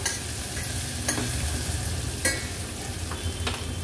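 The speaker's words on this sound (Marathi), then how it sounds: "थोडीशी फोडणी आहे ना परतून घ्यायची आपल्याला।" Turmeric-laced tempering for buttermilk kadhi sizzles in a pan while being stirred and sautéed, a close steady fry hiss broken by a few sharp scraping clicks of the spoon, with no voices.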